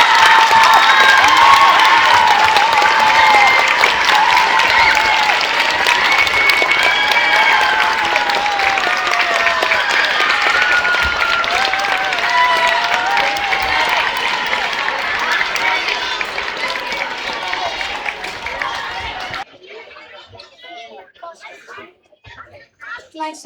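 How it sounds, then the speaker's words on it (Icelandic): An assembly audience applauds schoolchildren at a school morning gathering with loud, sustained clapping mixed with crowd noise and some cheering for nearly twenty seconds, then it cuts off sharply, leaving faint scattered sounds. "Núna skulum við klappa vel fyrir öllum þessu flottu krökkum."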